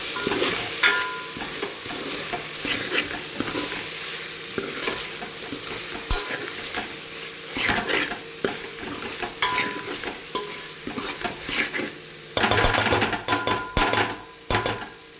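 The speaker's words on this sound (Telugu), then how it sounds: "చూడండి ఇది మంచిగా వేగుతుంది కదా, అప్పుడే కసూరి మేతి కూడా వేసుకున్నాము ఇందులో" Soya chunk masala with kasuri methi fries and crackles in a pan while a spoon stirs and scrapes it, with bursts of clattering metal against the pan toward the end. The sound is close, busy and continuous, with no voices.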